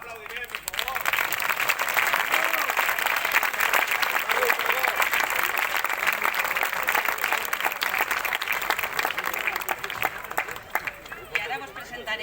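Dense, steady applause from an audience at an outdoor band concert, many hands clapping loudly without a break, with crowd chatter mixed in.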